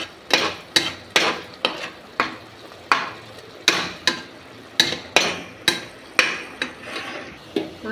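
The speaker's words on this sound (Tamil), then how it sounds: "மசாலா போட்டு நல்லா மிக்ஸ் பண்ணிக்கலாம்" A utensil scrapes and knocks rhythmically against a pan as masala is stirred into a frying chicken gravy, giving a steady series of sharp clanks with a soft sizzle underneath.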